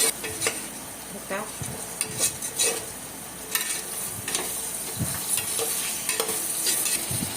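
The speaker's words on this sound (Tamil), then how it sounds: "நம்ம வச்சுருக்கிற சோயா சங்க்ஸையும் போட்டு கொஞ்சம் நேரம் வதக்கிட்டு கூடவே தக்காளியும் போட்டு வதக்கிக்கலாம்." Soya chunks and tomatoes sautéing in a pan for vegetable pulao, loud continuous sizzling with repeated scrapes and clinks of a spoon stirring against the metal pan, no voices.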